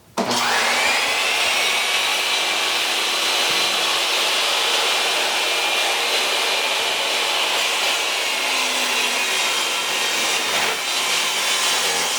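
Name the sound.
self-cleaning dust collection vacuum running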